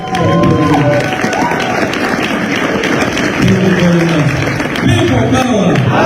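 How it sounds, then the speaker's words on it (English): Loud crowd at an NUP political rally, applause and cheering blending into a dense roar that swells and holds throughout, with voices shouting over it. "I want all of you to stand up and give him a big round of applause"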